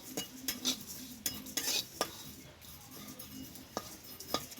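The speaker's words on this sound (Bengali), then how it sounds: "আমি মশলা কটা ভেজে নেবো" Whole spices are dry-roasted in a pan on low heat for chaat masala, with a soft scraping stir and sharp clinks of a metal spoon against the pan, quiet and close.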